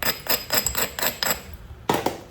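A hammerstone strikes a spall of Georgia chert during flintknapping, giving a quick series of about seven sharp, close clicking knocks at an uneven rhythm, with a gap before the last hit.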